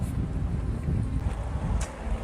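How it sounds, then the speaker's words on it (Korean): Strong outdoor wind buffets the microphone in a continuous low roar, steady and loud for the whole stretch, with no voices. "바람 대차게 부네"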